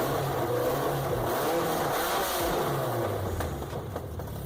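A BMW M3 E30 with its four-cylinder engine and individual throttle bodies revs hard, the pitch rising and falling in quick sweeps, loud and close with no talk.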